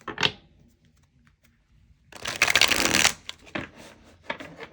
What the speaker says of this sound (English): I'm gonna take the cards, and I'm gonna shuffle them back into the deck